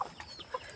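A chicken clucking at a rural home, two short faint clucks at a slight distance over quiet background.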